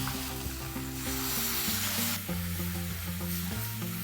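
Tomato puree hitting a hot pan for a dhaba-style paneer masala gravy, a steady loud sizzle and crackle with stirring, heard under sustained background music.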